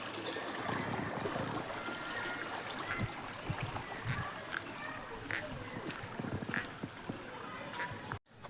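Water flows and splashes steadily in the Neeli stream at Parappur, a continuous close rushing wash with faint scattered clicks and no voices, ending in an abrupt cut.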